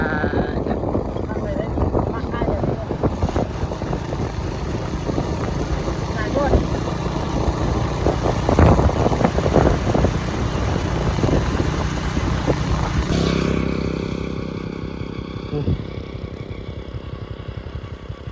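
A motorcycle ridden along a village road in Laos, its engine droning steadily and fairly close, with voices talking over it throughout.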